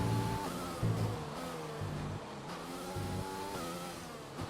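An F1 race car engine in a video game at Spain, heard through a hairpin on lap 31, whines and shifts pitch as it brakes, downshifts and revs back up, steady and close with no talk.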